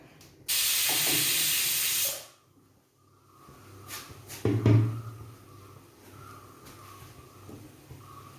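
A pressure cooker cooking payar lets out a loud, sharp burst of hissing steam that lasts under two seconds, followed by quieter clattering and faint kitchen noise.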